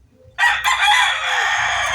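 A rooster crows loudly and close by, one long strained call starting abruptly after a brief quiet moment.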